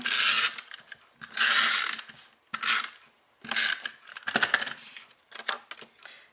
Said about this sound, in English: I'm just going to use my snail adhesive to adhere that